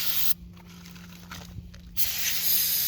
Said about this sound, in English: But we got some brake parts cleaner I'm gonna use